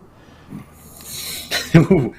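A single sharp sneeze bursts out close by after a short breathy intake, amid quiet background talk.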